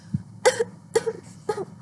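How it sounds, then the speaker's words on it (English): Three dry coughs in a row, evenly spaced about half a second apart, close and fairly loud with no talking. "please pardon my cough."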